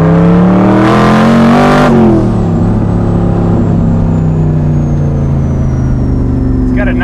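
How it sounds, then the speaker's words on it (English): A 1000 HP Corvette Sting Ray engine on a street test gives a loud, close rev during the first couple of seconds, then drops to a steady, deep, rumbling idle through its pipes. "It's got a nice tone once it starts getting into power. Yeah, the pipes sound cool."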